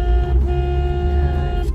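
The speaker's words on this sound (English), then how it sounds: "I don't know what's going on with the traffic this morning." Inside a moving car, road traffic rumbles low and steady with a sustained tonal hum, probably a horn or engine whine, running loud and close with no speech.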